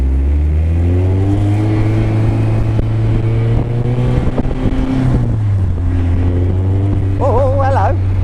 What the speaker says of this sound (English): I want to hear that supercharger because I'm not hearing the supercharger whine yet.